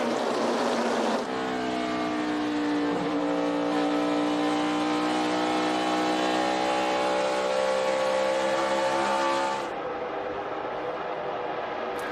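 Onboard a 2011 NASCAR stock car racing in the Hollywood Casino 400: a loud, steady engine roar with strong harmonic tones that climb slowly in pitch, then drop sharply near the end as the car lifts.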